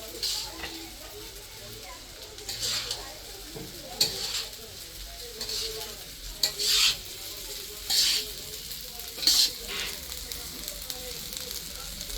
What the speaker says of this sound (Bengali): এখন চালটা ভাজা ভাজা হয়ে গেছে